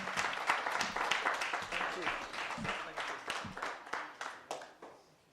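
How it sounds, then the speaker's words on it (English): An audience claps for a panel at a citizens' assembly on democracy, a sustained round of many hands that thins into scattered claps and fades out at the end. "Let's clap for each other."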